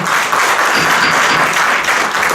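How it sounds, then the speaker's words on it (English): Audience applause erupts at a city council meeting during union contract negotiations, a dense, steady wash of clapping from a crowd, loud and sustained throughout with no voices over it. "This is your first warning with the applause."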